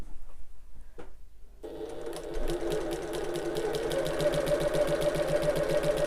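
Sewing machine stitching through a fabric wallet with interfacing, 3 mm from the edge: a brief pause, then a steady rapid needle rhythm that runs continuously and fairly loud to the end, with no talk.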